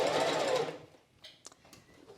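A sewing machine stitches a curve in fabric, a brief close burst of rapid mechanical whirring at the start, followed by a few faint clicks and handling sounds as the fabric is moved.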